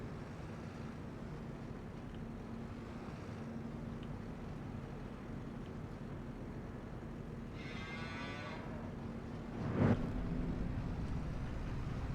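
Cattle mooing in the farming video game Farming Simulator 25 on a large dairy farm, a drawn-out low moo standing out against a steady ambient bed, followed by a brief louder thump.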